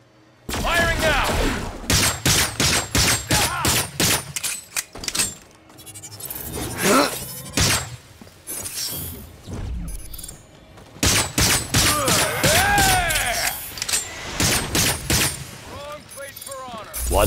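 Rapid gunfire from the Agents of Mayhem video game rattles in dense, loud bursts with short pauses and mechanical clatter between them, and game voices are heard in places.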